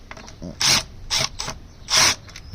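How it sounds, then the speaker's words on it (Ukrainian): Plastic clicks and snaps ring out as the cover comes off a Dell Optiplex 9020 all-in-one computer, with several sharp bursts spread across a couple of seconds over a faint background hiss. "я зняв кришечку, і під цією кришечкою, бачите, вона закривала у нас."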